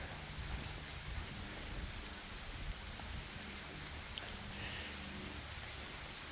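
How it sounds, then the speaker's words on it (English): Rain falls steadily outdoors in a garden, a soft, even hiss of drops that stays faint and continuous with no talk. "just in case this turns into a full downpour"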